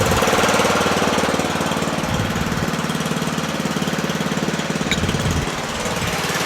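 A Murray 40-inch widebody lawn tractor with a 12.5 HP Briggs & Stratton flathead engine idles slightly fast, a loud, close, steady chugging thrum with a brief dip in rhythm partway through.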